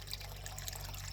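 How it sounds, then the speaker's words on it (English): Water left running into an aquaponics tank: a steady, faint trickle and splash of flowing water with a low hum beneath, continuous and without speech. "and accidentally left the water on."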